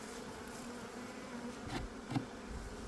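Honey bees buzzing steadily at close range at an apiary, a continuous low hum with a few louder passes near the end.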